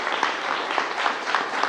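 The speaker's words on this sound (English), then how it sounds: "Let's give him a round of applause there." Applause from the audience at an annual contractors day event, steady, moderately loud clapping with no talk over it.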